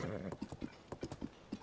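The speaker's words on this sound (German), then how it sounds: "Sein tolles Pferd." Horse hooves clip-clop in a quick, uneven rhythm, about a dozen crisp strikes, close and moderately loud, in The Legend of Zelda: Tears of the Kingdom.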